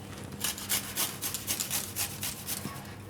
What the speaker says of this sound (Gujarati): હવે આમાં થોડુંક તેલ આપણે વધ્યું છે, તો એમાં આપણે લસણ આ છીણી નાખીશું.